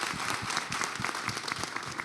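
Clapping from an audience at a digital economy policy forum hosting a presidential candidate, a sustained patter of many hands, fairly even and moderately loud throughout, with no talk.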